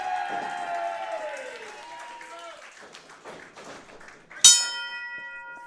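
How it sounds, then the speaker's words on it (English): At a wrestling match, a single sharp metallic strike of the ring bell cuts through crowd noise near the end, ringing briefly after fading tones and background chatter. "There it is. Referee Nick Ridenauer calls for the bell."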